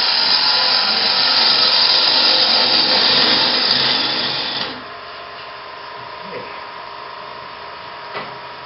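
A wood lathe turning a bowl with a gouge riding the bevel, a loud, steady, close cutting roar that stops abruptly partway through, leaving a quieter motor hum with small knocks.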